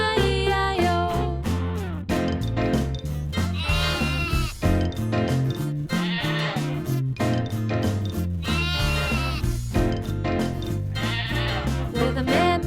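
A children's farm song plays with bouncy instruments and singing, the sheep's part carried by voices, loud and continuous throughout.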